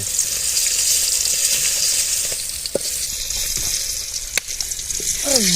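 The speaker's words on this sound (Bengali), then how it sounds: "মাছ ভাজা কমপ্লিট, এখন তুলি।" Fish fries in hot oil with a loud, steady bubbling hiss up close, interrupted by a few sharp clatters and scrapes as pieces are lifted out of the pan.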